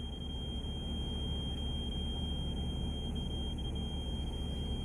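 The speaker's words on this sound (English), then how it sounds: "That transformer up there is causing that noise" An electrical transformer on a utility pole across the street, the pole faintly glowing at night, gives off a steady, piercing high whine over a constant low hum and background rumble.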